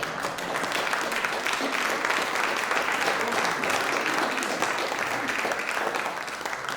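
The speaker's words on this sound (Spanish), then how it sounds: "Venga a ver ese fuerte aplauso para ellos." Sustained audience applause, even and continuous dense clapping at moderate level that holds steady for several seconds with no break.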